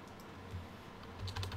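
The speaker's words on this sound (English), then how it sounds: "I'm going to type it in." Quiet keystrokes on a computer keyboard while a stock chart is entered, a soft scattered patter of a few taps that grows denser toward the end.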